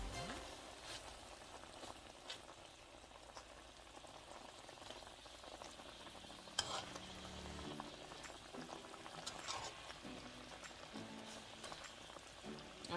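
Salmon pieces cooking in a pan of Jamaican coconut curry give a quiet, continuous bubbling simmer with soft sizzling and occasional clinks, close but low in level, with no talk.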